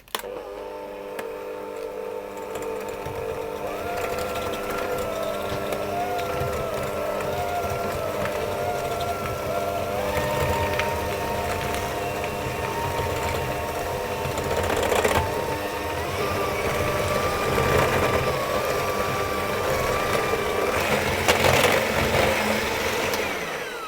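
An electric hand mixer creams butter and sugar for Christmas cake batter in a home kitchen, a steady whirring motor drone with shifting pitch that runs loud and unbroken for over twenty seconds.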